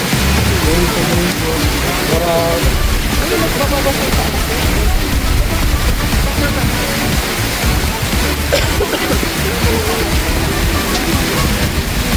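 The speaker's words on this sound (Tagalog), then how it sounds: "Ulan pa lang." Heavy rain pours in a dense, steady roar, with a few voices faintly mixed in.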